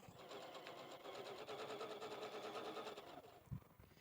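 Sewing machine stitching at a steady rapid rhythm for about three seconds, moderately close, then stopping, followed by a faint thump; no voices.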